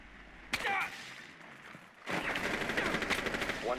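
Rapid automatic gunfire in the video game Rainbow Six Siege comes as a short burst, a pause, then a longer sustained rattling volley of dense repeated shots, loud and close, with faint voice-like sounds underneath.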